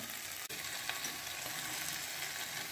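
Ground cumin paste being stirred into banana flower curry in a pan gives a steady, soft frying sizzle, with a faint scrape or two from the spoon, close and quiet, without any talking.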